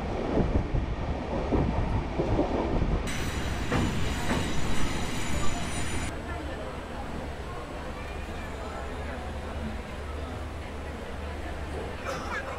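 Passenger train travelling from Mumbai to Pune, heard from inside a coach as a steady rumbling rattle of the carriage with a brief high whine in the middle and a faint voice under the noise.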